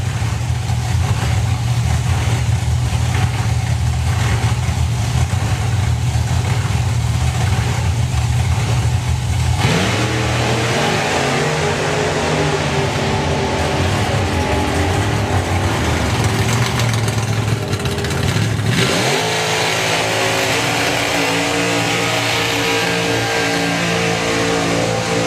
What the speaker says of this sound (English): we'll just let the burnouts go through there